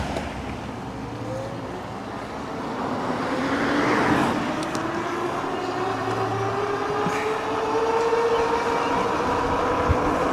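Steady wind and rolling road noise from a Gotrax F1V2 electric bike coasting downhill outdoors, a continuous whooshing rush with a faint rising motor whine, no speech.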